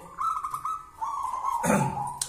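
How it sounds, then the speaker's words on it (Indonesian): A zebra dove, a local perkutut kept as a cage bird, coos in a steady series of soft, mellow notes close by, with no voices over it. "sambil kita mendengarkan perkutut manggung"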